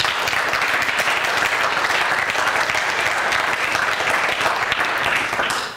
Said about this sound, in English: Could you please give them a big hand clap?